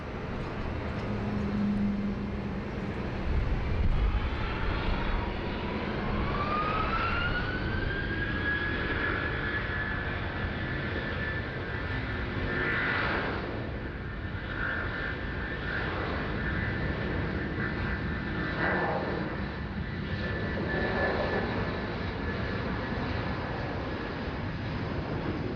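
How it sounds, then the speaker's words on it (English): Malaysia Airlines jet taking off from runway 16 right at Sydney Airport: a loud, sustained engine roar with a whine rising in pitch as it powers up, continuing throughout without speech. "Malaysia 122, runway 16 right, cleared for takeoff."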